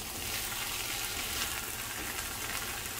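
Calabaza and other vegetables sizzle steadily in a frying pan as they stew, seasoned with pepper, garlic and salt, giving a constant close-up crackle with faint stirring and no voices.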